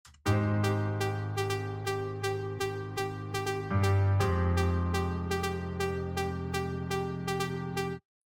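A bright, plucky synth lead plays a bouncy melody of short repeated notes over a sustained low chord, steady and upfront with no voices.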